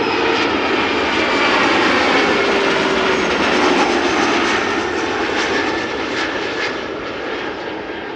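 A 14-year-old CRJ 900 long-range regional jet arrives at Amsterdam Schiphol from Copenhagen, its engine roar loud and close throughout, with a whining tone inside the rumble that slowly fades toward the end.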